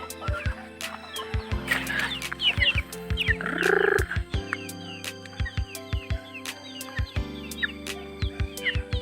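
Chickens cluck in short, loud, repeated bursts close by, with a louder squawking call in the middle, in a Lao or Thai farmyard setting where ducks are also kept.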